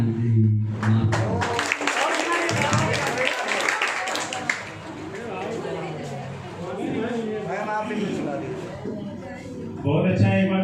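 An audience claps for a student's song at a Teachers' Day school programme, a burst of applause at the start that fades under talk, with a brief return near the end.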